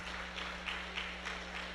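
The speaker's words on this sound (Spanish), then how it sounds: "un caluroso aplauso para nuestro hermano Daniel" Faint, steady applause from a church congregation, soft and distant, with a low constant hum underneath.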